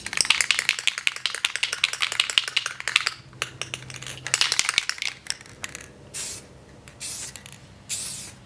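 Rapid rattling of a clear coat spray can being shaken hard for headlight restoration, with the mixing ball clacking rhythmically up close, then a few short hissing bursts of spray near the end.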